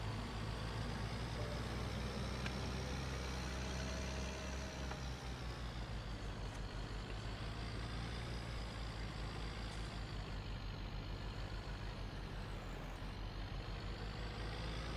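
Vehicle engine in the farming game Landwirtschafts-Simulator 19, a steady low drone running without a break, with faint higher tones above it.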